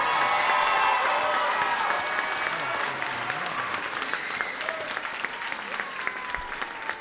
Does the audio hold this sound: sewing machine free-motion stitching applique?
no